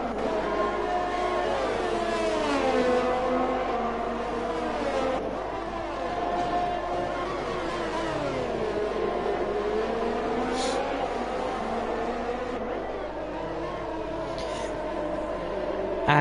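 Open-wheel race cars in the F1 2021 racing game scream down the start-finish straight at the Hungary circuit, their engines rising and falling in pitch as they accelerate and pass one after another.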